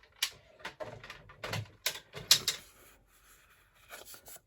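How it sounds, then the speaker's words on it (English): Paper being folded and burnished for a handmade Christmas treat holder, with a series of close, sharp creasing scrapes and rubs in irregular bursts, fading to quieter handling toward the end. "So now I'm just going to fold and burnish"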